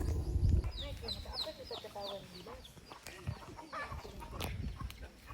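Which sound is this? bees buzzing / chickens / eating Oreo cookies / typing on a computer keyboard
chickens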